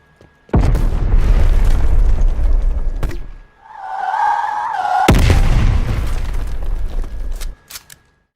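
A grenade launcher tube in Black Ops Cold War fires and bursts with loud booming blasts, a heavy first explosion rolling for seconds and a second one following after a brief whistling lull, then a few faint pops.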